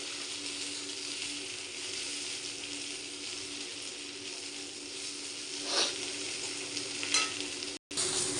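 Broad beans frying in a pan, a steady crackling sizzle with occasional scraping clicks of a spatula stirring, close and continuous, no talking.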